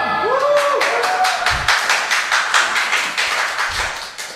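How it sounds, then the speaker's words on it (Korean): A church congregation at a Sunday service claps in a quick, even burst of several beats that fades out, filling the room. Short low thumps sit under it, and no one speaks over the applause. "별 기대도 안 하면서 박수 치는 거 알고 있어."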